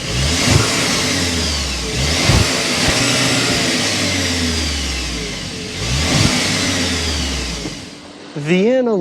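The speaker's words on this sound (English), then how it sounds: "start up this new turbocharge so you can hear that exhaust note" A 2024 VW Atlas Cross Sport's turbocharged four-cylinder exhaust note, loud and close, rising and falling through repeated rev swells, with a brief voice at the very end.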